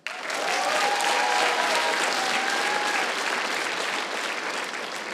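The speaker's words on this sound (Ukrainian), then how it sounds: "ваші оплески" Studio audience at a Ukrainian celebrity roast show applauds steadily, a dense, loud wash of clapping that sustains for the whole stretch with a few faint cheers or whistles mixed in.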